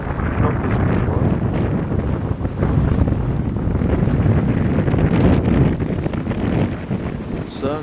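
Wind rushing steadily across the microphone of a sailboat making 8–9 knots at sea on a channel crossing, with a constant broadband roar and faint water wash, loud and close throughout.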